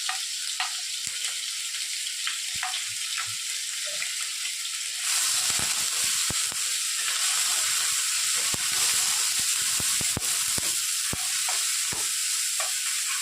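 Onion, garlic and ginger paste sizzling in hot oil in a pan, a steady bright frying hiss that grows louder partway through, with occasional spoon scrapes and pops.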